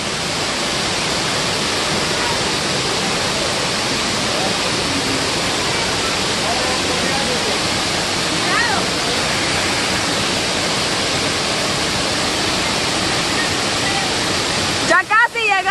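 Icy water jets rush and roar in a continuous, loud, steady wash that fills the whole stretch, with a brief disturbance right at the end.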